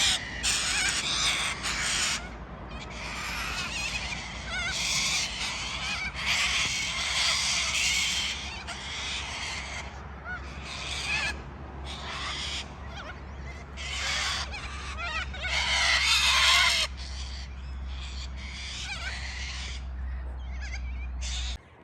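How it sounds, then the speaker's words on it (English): A flock of corellas screeches in harsh, raucous bursts, loud and overlapping, over a low steady hum. "They're not the cockatoo, they're the coralla. So they make just as much noise."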